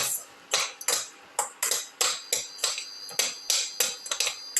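Chicken and ginger are sautéed in a pan, heard as a rapid run of about a dozen sharp scraping strokes of a utensil against the pan, close and rhythmic, with no voices.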